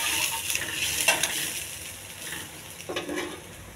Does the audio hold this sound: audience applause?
no